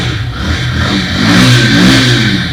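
A Lifan KPR motorcycle engine revs up briefly and holds a higher pitch, loud and close, with a rough mechanical drone and no voices.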